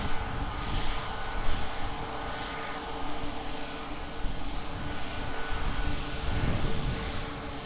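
A fixed-wing airplane on approach to land at Lisbon Airport, its engine a steady broadband roar that holds at a fairly even loudness throughout, with no speech.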